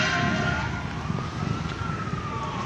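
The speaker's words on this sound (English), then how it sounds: "That sounds like the police sirens again." A distant police siren wails steadily over a dull rumble of outdoor background noise in Nicaragua, its pitch slowly rising and falling.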